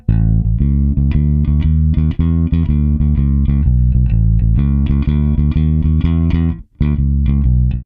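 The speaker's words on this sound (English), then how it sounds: "These next ones have been dubbed boogie woogie bass lines." An electric bass plays a driving boogie woogie line, busy repeating note patterns in a bouncing rhythm, loud and close with no other instruments.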